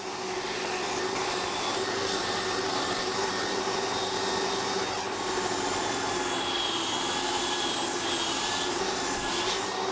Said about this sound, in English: Then I'll finish rounding them over at the belt sander.